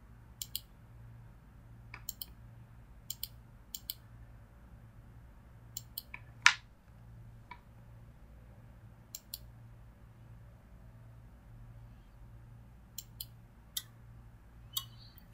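Mouse clicks switching on a Fatek PLC traffic signal control program, sparse light ticks spread irregularly over a steady low hum, with one sharper click near the middle.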